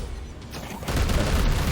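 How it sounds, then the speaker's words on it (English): A big explosion in the video game Chaos Gate bursts in at about 0.9 seconds, a loud, dense boom with rumbling debris that sustains to the end after a quieter lead-in. "No, we just want the big explosion."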